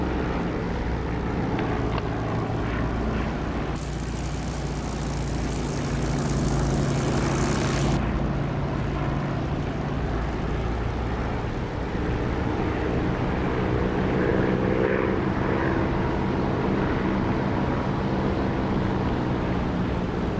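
A propeller aircraft engine in a DCS or War Thunder flight simulator drones steadily and loudly, a constant rumbling hum with wind rush layered over it, broken briefly by a brighter hiss in the middle.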